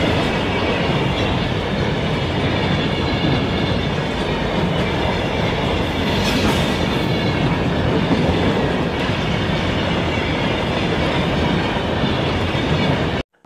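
A long freight train rumbles steadily along rails across the Sahara Desert, a continuous loud roll with faint clickety-clack and a brief squeal midway, running close by throughout.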